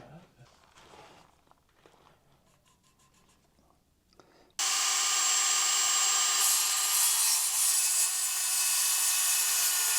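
A handsaw cutting a wooden 2x4 for a shipping container build, loud steady back-and-forth strokes beginning partway through after quiet handling noises.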